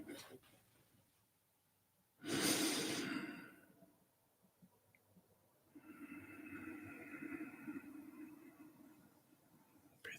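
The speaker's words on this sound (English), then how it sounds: "Breathing into the belly, feet flat on the floor." Slow, deep breathing during a guided meditation: one loud, close, rushing inhale, a quiet pause, then a long, drawn-out exhale that carries a soft hum and trails away.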